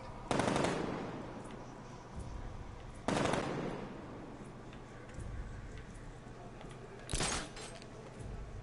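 Automatic gunfire in Batman: Arkham Knight, shooting down an enemy: three loud bursts spaced several seconds apart, each fading into a low rumbling background.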